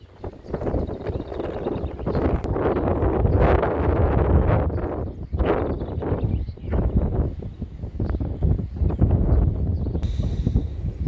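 Outdoor wind buffets the microphone beside a puppy run, producing heavy, gusting low rumbles that rise and fall across the whole stretch, with faint rustling mixed in and no talking.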